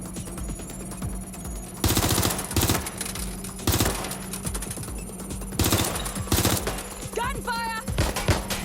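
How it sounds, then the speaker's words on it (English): Bursts of automatic gunfire in the video game Watch Dogs Legion, rapid machine-gun volleys arriving in several loud clusters over a constant electronic hum, with a brief synthetic chirping effect near the end. "Gunfire!"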